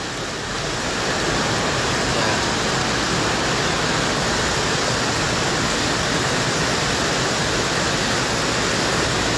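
Steady, dense rushing of the Bah Bolon river flowing close by in North Sumatra, Indonesia, loud and continuous throughout, with no voices.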